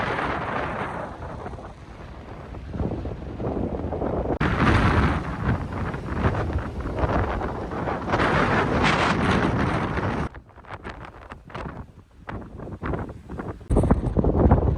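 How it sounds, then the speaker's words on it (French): Strong coastal wind at Wineglass Bay, Tasmania, buffets the microphone in loud roaring gusts that rise and fall, dropping briefly toward the end before surging back. "hyper venteux"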